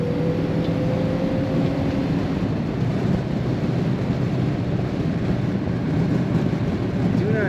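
A 1964 Ford Galaxie 500 convertible with Sniper EFI cruising along, its engine giving a steady low rumble over continuous road and wind noise, with no voices.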